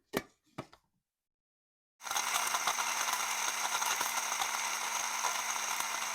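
A kitchen grinder or blender whirs steadily through dog treat ingredients, a loud continuous mechanical buzz that starts abruptly after a couple of faint knocks and then runs without pause.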